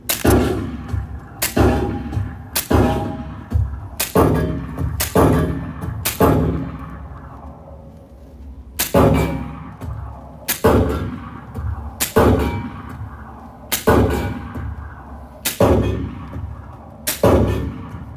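Gunshots at a police shooting range, a dozen loud, close single reports fired at irregular intervals of about one to two seconds, each with a short ringing decay.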